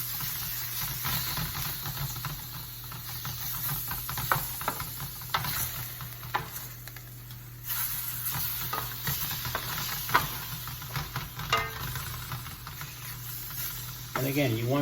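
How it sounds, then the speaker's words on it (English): Bite-sized chicken pieces sizzle as they brown for Spanish paella, a close, continuous crackle broken by stirring and scraping in the pan, with a brief low murmur near the end. "Just a little bit of the sizzling in there of the chicken."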